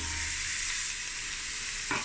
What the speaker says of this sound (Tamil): இந்த எண்ணெயில் வதக்கும்.